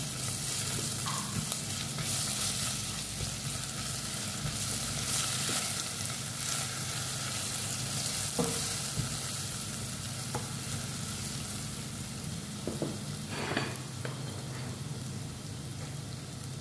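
Ginger and garlic fry in a pan for chicken rice, giving a continuous soft sizzle with occasional crackles and faint clinks, moderately quiet and steady throughout, with no talking.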